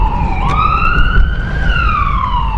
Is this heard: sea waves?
no